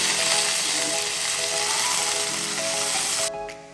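Curry leaves and mustard seeds sizzling in hot coconut oil, a dense, close, steady frying hiss with faint crackles that cuts off abruptly near the end.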